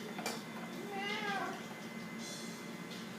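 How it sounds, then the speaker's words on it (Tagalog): A cat gives one short, faint meow amid a noisy room, with people chatting nearby and music playing softly. "Pati pusa nakapamiyaw eh."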